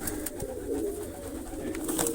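Pigeons coo steadily at close range, a continuous low, burbling murmur of several birds with faint clicks and rustles mixed in.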